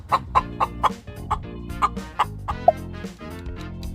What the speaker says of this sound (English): You got it. That is chicken.